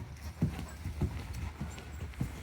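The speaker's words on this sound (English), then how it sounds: "Just cantering him. I know he's got a fun canter." A horse canters during a riding lesson, its hooves thudding in an even, rolling three-beat rhythm at moderate distance, with quiet background ambience and no talk.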